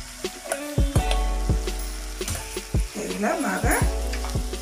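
Soaked puffed rice upma mixture is stirred in a pan, with repeated thudding spoon knocks and scraping over a light sizzle; a voice speaks briefly partway through.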